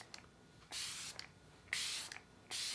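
Makeup setting spray misted in three separate bursts of fine, airy hiss, each lasting about half a second, close and fairly loud with quiet gaps between.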